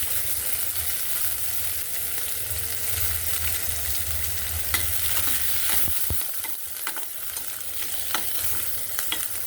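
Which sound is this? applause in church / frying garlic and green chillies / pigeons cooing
frying garlic and green chillies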